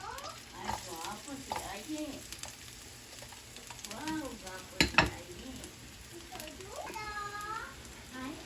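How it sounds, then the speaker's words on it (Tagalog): Garlic and onion sizzle as they sauté in hot cooking oil in a home kitchen pan, with stirring scrapes. A steady, close frying hiss runs under speech and children's voices. "At habang mainit ay ilalagay ko na po itong ating bawang at sibuyas."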